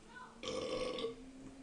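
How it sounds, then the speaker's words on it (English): A single loud, drawn-out human burp, close and clear, lasting about a second within a casual conversation. "that burp just made me lose my train of thought"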